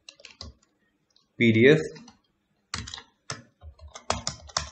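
Computer keyboard typing of code, a scatter of short clicky keystrokes in brief bursts, close and moderately quiet, broken by a stretch of speech.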